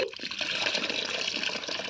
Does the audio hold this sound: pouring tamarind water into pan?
yes